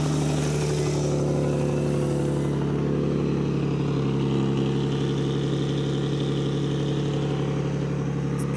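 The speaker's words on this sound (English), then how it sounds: "Let's give you guys a little cold start." A Nissan 350Z with exhaust leaks idles steadily after a cold start, a deep, loud, close engine drone with a low throb and no voices.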